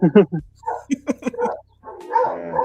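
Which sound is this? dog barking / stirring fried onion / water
dog barking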